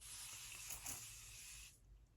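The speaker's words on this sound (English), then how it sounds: "I'm gonna spray it with Avene face spray" An Avene face spray mists onto skin as one steady, close hiss lasting about a second and a half, then cutting off sharply into near silence.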